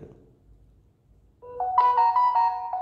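A phone message notification tone on a lottery-number messaging software setup chimes as a short melodic sequence of bright tones, loud and close, following a brief stretch of quiet background with no talk.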